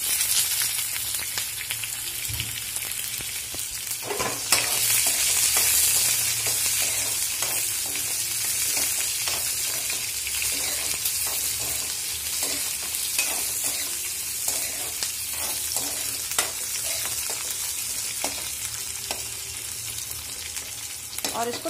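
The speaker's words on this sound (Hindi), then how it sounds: "तो हम इसमें डाल देंगे कटा हुआ प्याज।" Chopped onion fries in hot oil with panch phoron for a potato and pointed gourd curry, a continuous crackling sizzle with occasional stirring scrapes, close and steady throughout.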